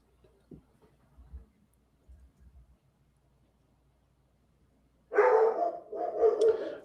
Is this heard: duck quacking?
no